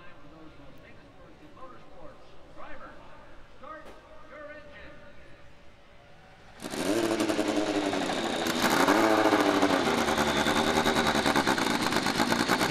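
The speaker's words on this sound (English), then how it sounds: "Engines are fired." Indy Lights race car engines fire up on pit road at Iowa Speedway, a loud roar jumping in midway and building into a sustained, dense engine drone after quieter crowd and announcer chatter.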